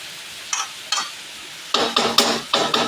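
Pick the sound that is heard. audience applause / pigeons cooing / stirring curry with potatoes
stirring curry with potatoes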